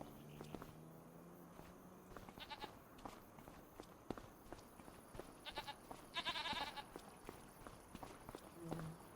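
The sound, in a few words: sheep and goats bleating, Farming Simulator 25 video game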